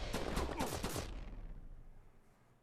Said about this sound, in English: get your gun out and then shoot